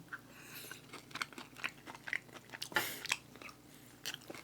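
Pork bulgogi being chewed up close during a mukbang, with repeated soft wet bites and crunchy chewing sounds in an uneven rhythm over a quiet background, no talking.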